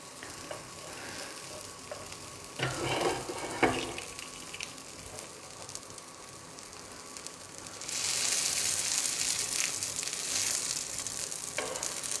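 Food frying in a pan just after being flipped, a steady close sizzle with a few louder spattering bursts, swelling into a brighter, louder hiss toward the end, with no talking.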